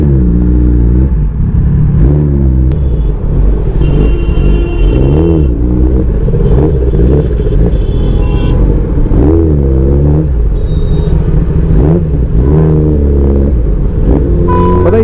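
Kawasaki ZX-10R motorcycle ridden through Delhi traffic, its engine loud and close with repeated revving rises and falls under a constant rumble and wind.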